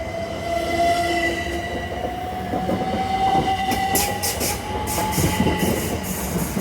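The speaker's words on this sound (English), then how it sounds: "Passing through is a Hull train service from Hull" Hull Trains passenger train passing through Hatfield station on the East Coast Main Line, a loud steady rail roar with squealing wheel tones and rhythmic clatter across the whole passage, no talk.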